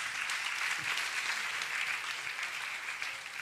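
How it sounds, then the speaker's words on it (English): A school orientation crowd claps steadily in a dense, even roar of applause that holds throughout without a break. "let's clap for the two guys"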